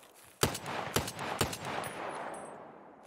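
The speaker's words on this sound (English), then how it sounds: "What are you shooting at?" Gunfire in the video game Escape from Tarkov, three sharp shots spaced about half a second apart, each trailing off into a rolling echo that fades under quiet ambience.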